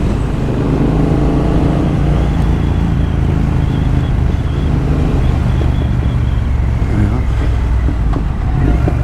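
Triumph Thruxton RS motorcycle on the move: a loud, continuous engine drone mixed with heavy wind buffeting from the rider's position, constant throughout.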